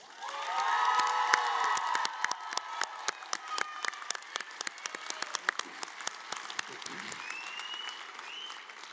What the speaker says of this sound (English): let's give another round of applause to our graduates